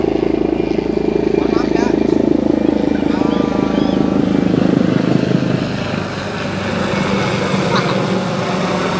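Loud, steady engine drone of a parked aircraft and helicopter running near a banana tree being felled, a continuous rumbling hum that fills the whole stretch and eases slightly toward the end.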